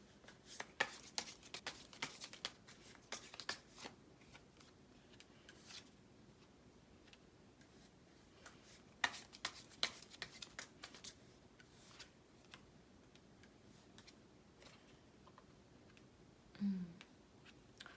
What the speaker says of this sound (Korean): 제가 좋은 카드 좀 더 뽑아볼게요